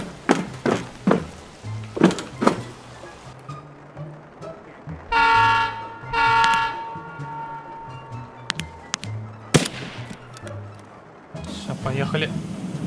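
Several sharp clunks and thuds, then two loud horn toots sound from a departing train on the Reserve map in Escape from Tarkov, followed by more mechanical knocks and rumble, with voices talking throughout.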